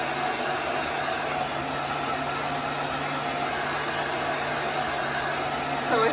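Heat gun blowing steadily to dry chalk ink on a gingerbread man hot pot holder, a constant broadband airy rush with a faint motor hum running unbroken throughout.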